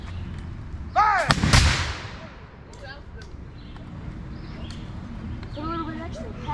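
A historical black powder cannon fires once in an outdoor firing demonstration, a single loud boom that rolls away into fading echo before voices and crowd sounds return.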